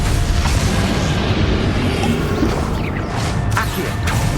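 Confringo fire spell blasting in Hogwarts Legacy combat, a loud, dense crashing burst of explosive noise with a few sharp cracks layered through it, sustained and close.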